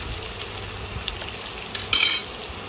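Paneer fries in a pan after being turned to its other side for matar paneer, a close, steady sizzle with small scrapes and a brief louder hiss near the end.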